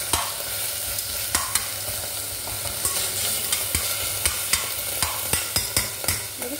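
Mutton coated in papaya paste fries and gets stirred in a pan, a dense continuous sizzle punctuated by frequent rhythmic scraping taps of a spoon, close and loud.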